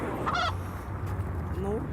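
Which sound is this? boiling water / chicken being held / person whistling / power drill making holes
chicken being held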